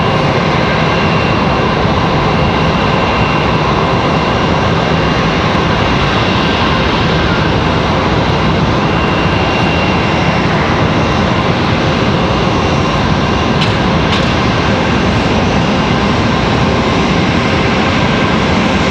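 A JetBlue jet airliner at Raleigh Durham International Airport, its engines roaring loud and steady nearby for the whole stretch as a continuous broadband rumble, with no other sounds standing out.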